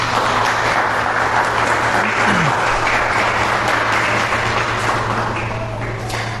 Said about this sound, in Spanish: ¿Cuánto le dan un aplauso al rey?